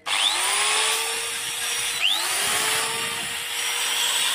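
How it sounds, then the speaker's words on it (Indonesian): An electric drill runs on a household supply, spinning up with a rising whine, dipping briefly and spinning up again, loud and close with no talk. "Ini kita nyalakan bor dulu."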